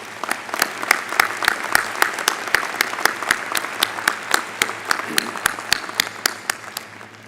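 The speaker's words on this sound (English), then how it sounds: "Round of applause for them, please." Audience at a medical school commencement in Joplin applauding, with dense sustained clapping and distinct individual claps punctuating a crowd roar throughout.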